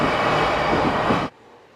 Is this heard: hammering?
no